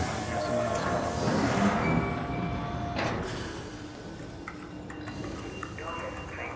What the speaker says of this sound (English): Train arrived.